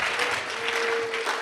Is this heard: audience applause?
yes